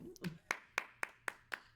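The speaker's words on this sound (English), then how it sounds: "Clap for Jamie." A small group of people claps hands in a quick, even rhythm, about seven sharp claps in under two seconds, close and fairly quiet, with faint voices at the very start.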